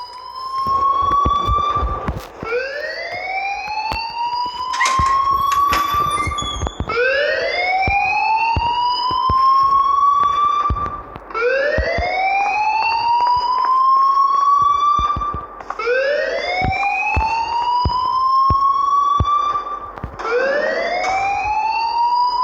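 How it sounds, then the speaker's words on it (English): An alarm rings in the video game Life is Strange, a loud repeating electronic siren of rising whoops in steady cycles, with no other sound over it. "please turn off that alarm since that's your job"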